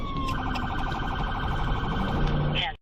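Police car sirens wail loud and steady with a fast pulsing tone, heard up close from a responding unit in a body-camera scene, with faint radio chatter underneath.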